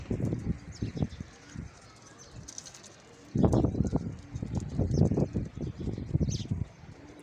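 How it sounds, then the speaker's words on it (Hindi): Original Sialkoti breeder pigeons in a loft make soft, repeated low cooing calls in clustered bursts, fairly close, with occasional faint chirps and rustling around them. "ले भाईजान शौक़ करें ओरिजिनल सियालकोटी कबूतर।"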